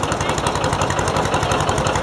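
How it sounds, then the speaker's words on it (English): A 1960 Massey Ferguson 35 two-bottom plow tractor chugs along with a rapid, steady engine knock, loud and close, running evenly without talk. "driving a 1960 Massey Ferguson 35. That was a 2-bottom plow tractor there."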